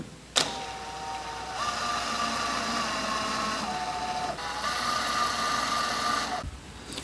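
A power driver whirs steadily as small screws go into a DIY solar generator case, starting with a sharp knock, then a long, even motor drone that briefly shifts pitch and cuts off near the end.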